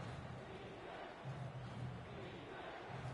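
Stadium crowd noise in the Madden NFL football game, Eagles versus Bears: a steady, dense roar that swells slightly and never drops away.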